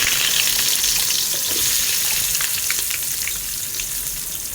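Onions fry in hot oil for pulao, a bright, steady close sizzle with faint crackles that eases slightly toward the end.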